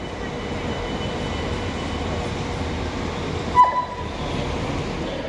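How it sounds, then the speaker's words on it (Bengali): A railway station platform in Llandudno, UK, carries a steady low rumble of a waiting train and station hum, with a short tonal blip partway through, no clear speech. "আমরা এখন স্টেশনে এসেছি, এখন আমরা ট্রেনে উঠবো।"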